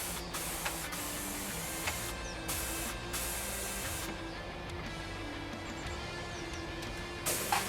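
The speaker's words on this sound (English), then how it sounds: "So now outside with a spray gun and compressor, put some more paint on these." Steady hissing spray from a paint spray gun outdoors with the continuous drone of an air compressor running throughout, occasional brief pauses in the spray, no talking.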